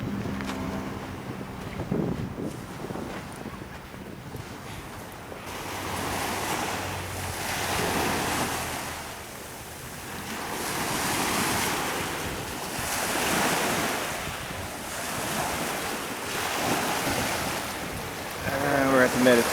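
Surf on a Mediterranean Sea beach at Cannes, waves rolling in and breaking in slow repeated swells, with wind buffeting the microphone throughout.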